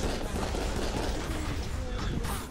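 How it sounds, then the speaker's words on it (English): Enemy gunfire in the VR shooter Raw Data, a loud, continuous barrage of rapid shots and bursts close by, with a voice shouting over the firing. "Stop shooting at me!"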